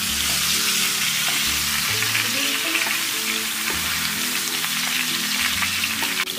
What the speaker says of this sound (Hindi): इसमें से हमारा घी का भी फ्लेवर अच्छा आ जाएगा मटन में, है ना, और फ्राई भी हो जाएगी